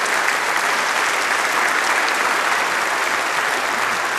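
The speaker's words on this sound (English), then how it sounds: "I think we can give her another round of applause on a nice job on." An alumni band concert crowd gives a singer a round of applause, with loud, dense clapping that carries steadily from start to finish.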